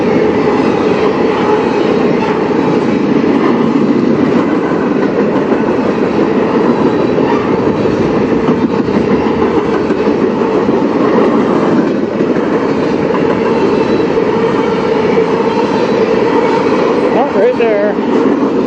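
CN freight train with hopper cars rolling past on the Strathroy Subdivision, a continuous loud rumble with rhythmic clickety-clack of wheels over rail joints and a brief squeal near the end.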